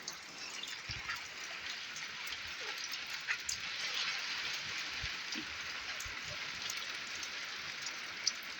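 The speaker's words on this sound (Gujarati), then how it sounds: "એટલો એટલો વરસાદ આવે છે।" Steady morning rain falls over a village cattle shed where cows are tied for milking, a continuous soft hiss with scattered faint drips and thuds and no talk.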